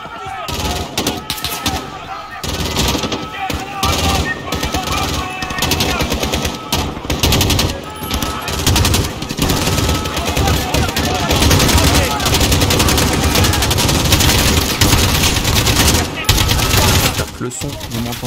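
Dense, continuous gunfire in Call of Duty: Modern Warfare (2019) with rapid automatic bursts and single shots, loud and close, with a voice talking over parts of it.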